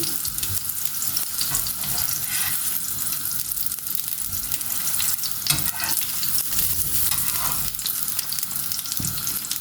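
Kebabs for homemade burgers fry over a slow flame in a pan, a steady close sizzle with occasional stirring and clatter throughout, no voices.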